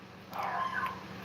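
A small pup gives a short, thin whining yelp in a quiet room at night. It is brief and fairly faint, rising and falling once over a low background hum.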